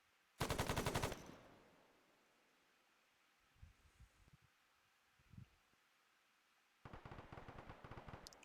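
Machine gun firing long bursts during Marine squad training with the 15th MEU: two loud, rapid-fire bursts, one near the start lasting about a second and another toward the end, separated by quiet rustling and faint handling noises.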